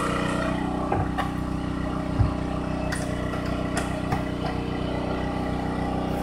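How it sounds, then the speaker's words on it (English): A 1500 watt Champion portable generator runs steadily nearby, a constant mid-pitched engine hum with a few faint clicks and knocks, no speech. "we have a 1500 watt Champion generator"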